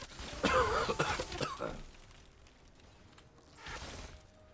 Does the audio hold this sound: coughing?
yes